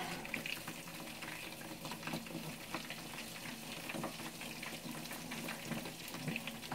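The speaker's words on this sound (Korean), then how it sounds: "여기다 새우 해가지고, 새우 튀기는 걸로." Shrimp deep-frying in hot oil while chili shrimp and giant flatfish sweet-and-sour are cooked at home, giving a steady, dense sizzle and crackle that runs unbroken from start to finish, close and moderately loud, with no talking.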